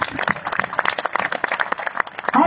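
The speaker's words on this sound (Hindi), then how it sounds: "एक बार विभिन्न संगठनों के जो भी हमारे साथी हमारे संघर्ष में साथ हैं, उनके लिए जोरदार तालियां, सारे सहयोगी संगठनों के लिए।" A crowd claps loudly and steadily at a pension human rights rally in Patna, Bihar, the dense applause continuing throughout with no pause.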